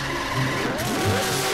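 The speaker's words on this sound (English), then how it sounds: "the car makes a super loud noise and it jump scares you" A loud engine roar with squealing, sliding tones from a video game car, rising and falling over a second or two.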